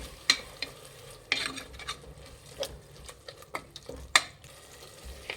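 Ground tomato is stirred in a frying pan for a mushroom biryani, with a faint sizzle underneath and a sparse series of sharp spatula clicks and scrapes against the pan, some louder than others.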